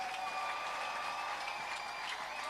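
A church congregation applauds in a dense, steady wash of clapping that holds evenly throughout, with no pauses or individual claps standing out.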